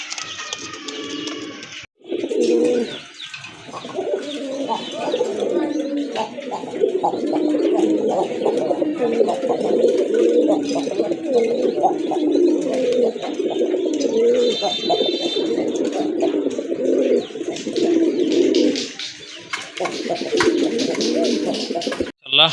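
Domestic native pigeons coo over and over in a dense, throaty chorus, close and loud, with soft shuffling between calls and no talking.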